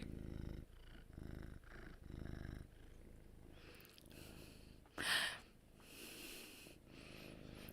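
A pet cat purrs while facing away from the microphone, in soft rhythmic rumbling pulses at close range. Quieter rustling and sniffing sounds follow.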